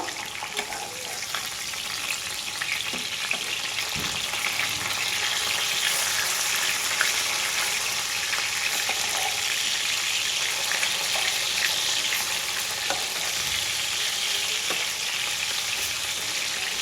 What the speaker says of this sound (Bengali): দ্বিতীয় পিঠটাও আমি এইভাবেই ভেজে নেব।